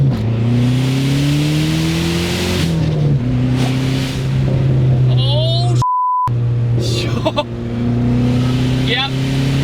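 A Dodge Neon SRT4 engine revs and pulls through the gears, rising and dropping in pitch, loud and close, with a short electronic beep midway.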